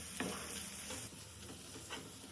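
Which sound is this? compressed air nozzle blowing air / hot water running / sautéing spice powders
sautéing spice powders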